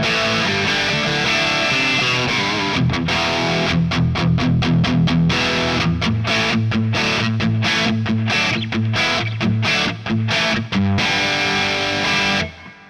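Distorted electric guitar tones from a JOYO Jam Buddy II amp speaker: thick overdriven chords and riffs, loud and continuous, later broken by rhythmic stops and short chugging bursts, then an abrupt end.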